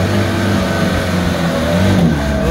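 A truck's engine revs hard and steadily while it climbs the steep rocky Batu Jomba hill, a loud, close, continuous mid-pitched roar with no speech over it.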